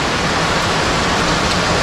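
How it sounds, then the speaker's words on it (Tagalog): Heavy rain pouring down outdoors in Kampanalig, a loud, dense, continuous hiss with no pauses. "talagang pabugso-bugso ang ulan ngayon dito sa Kampanalig"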